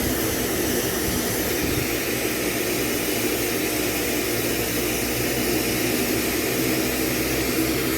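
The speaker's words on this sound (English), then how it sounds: "Working with a nice high heat propane flame." A high-heat propane torch flame burns as a steady, loud, broadband roar that stays even throughout, with no talking over it.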